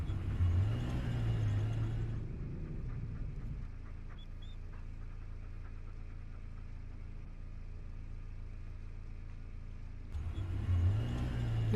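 A car rolls over a rough, obstructed road in a video game, a continuous low engine rumble that rises in louder revving bursts at the start and end.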